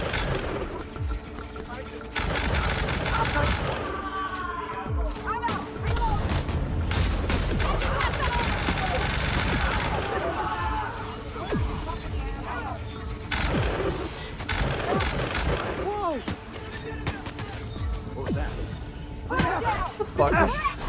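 Gunfire in The Outer Worlds: rapid shots and crashing impacts mixed with mechanical game noise, running throughout in uneven bursts while voices talk over the action.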